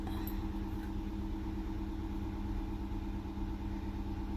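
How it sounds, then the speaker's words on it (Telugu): An auto rickshaw engine idles with a steady, droning rumble throughout, moderately close and unchanging. "ఆటో సప్పుడు అవుతుంది"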